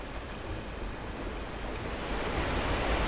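Water pouring into and filling a stone chamber in the Tomb Raider game, a steady broad rushing wash that swells slightly louder toward the end, with no talk.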